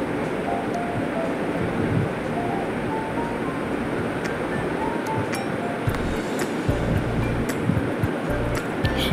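Fish slide one by one into hot mustard oil in a pan, raising a loud, continuous sizzling hiss close by, with occasional light clinks of utensils.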